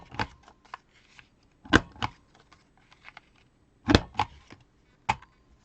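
A handheld edge trimmer clipping the corners of a paper card, a few sharp separate snips and clicks with quiet handling noises between them.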